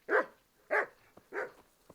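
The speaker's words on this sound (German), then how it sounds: "Braver Hund." A dog in the medieval video game Kingdom Come: Deliverance barks three times at a steady pace, sharp, close and clear, with faint yips between.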